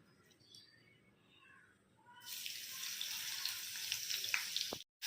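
Onion, chilli, ginger and garlic hit hot oil in a pan. After a quiet start, a loud, continuous sizzling hiss begins about two seconds in and holds steady until it cuts off.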